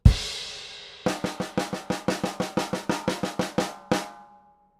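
A drum kit plays the last two bars of the breakdown from a rock song: a sharp opening crash, then about fourteen crisp, evenly spaced hits in a quick driving pattern and a final accented stroke ringing out.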